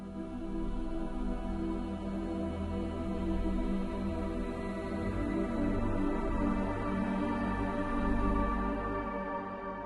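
A MicroFX cinematic texture loop plays in forward playback mode, a dense, steady, evenly sustained drone-like wash with slow swells and no speech.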